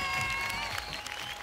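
Audience applause at a Bhojpuri film award show, sustained crowd clapping with music tones running underneath, fairly faint and even across the short stretch.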